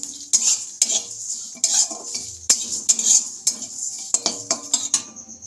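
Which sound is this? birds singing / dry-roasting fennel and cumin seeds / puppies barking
dry-roasting fennel and cumin seeds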